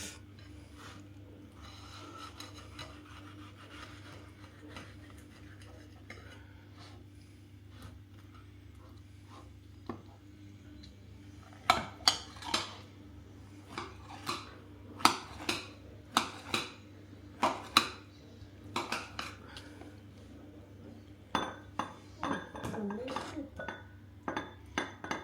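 Kitchen clatter of knife, plates and cutlery while mango is being cut, a steady low hum beneath and a cluster of sharp clinks and taps building in the second half.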